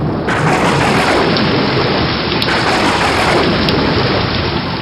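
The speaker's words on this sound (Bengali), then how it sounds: "যা, বৃষ্টি নেমে গেল।" Steady, loud rain pours down without a break, with a deep rumble of thunder underneath, close and dense, with no voices.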